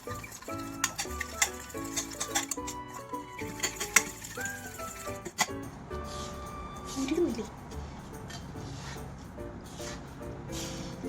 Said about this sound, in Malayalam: എന്നിട്ട് നമുക്ക് ഈ മുട്ടേനെ പഞ്ചസാരയും മുട്ടയും കൂടി ബീറ്റ് ചെയ്യാം.